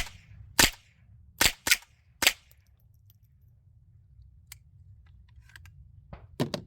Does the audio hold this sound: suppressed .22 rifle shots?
yes